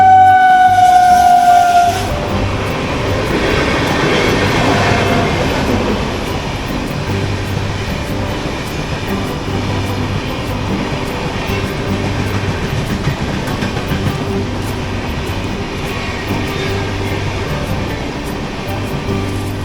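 A train rumbles past close by at a rail crossing in Purulia, a horn blast at the start giving way to a steady roar and rhythmic clatter of wheels over the rails.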